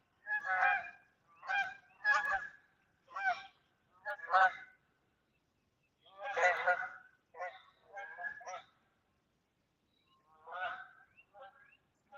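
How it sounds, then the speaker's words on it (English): Geese honk in a series of loud, nasal calls, coming in short bursts with pauses between, and nothing else in the background. "Those are geese, actually, probably."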